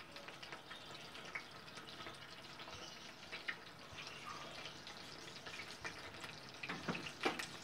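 Peshawari chapli kebab frying in a pan over low heat, a soft steady crackle and sizzle with scattered pops, fairly quiet and close, no voices.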